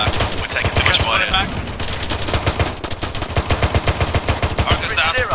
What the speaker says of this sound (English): We're taking too much fire.